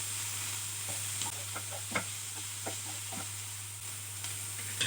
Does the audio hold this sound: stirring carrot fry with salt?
yes